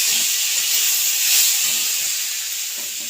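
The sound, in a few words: soaked masoor dal sizzling as it is stirred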